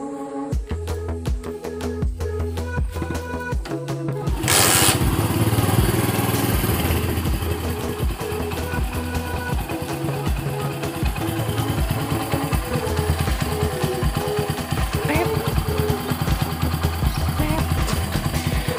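A Honda Win motorcycle with stock exhaust idles with a steady rumble, then revs up and keeps running loud and close for a long stretch.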